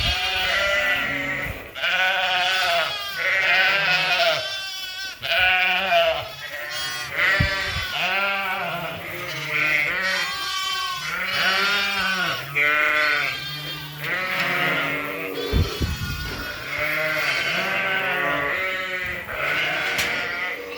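A flock of sheep, including Suffolks, bleats almost nonstop on a farm, with many loud, overlapping calls of different pitches close by and a few brief gaps.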